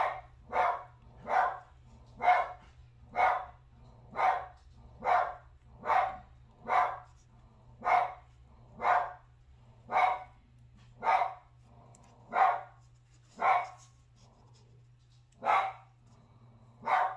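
A dog barks in a steady, rhythmic run of about eighteen evenly spaced barks, moderately close, over a low constant hum, with no talk.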